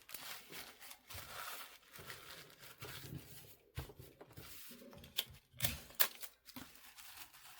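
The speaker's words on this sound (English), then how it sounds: "I just need to wrap her in the tissue paper." Tissue paper crinkling and rustling close by while a trading card is wrapped, with irregular soft crackles and a few sharper crisp bursts near the end.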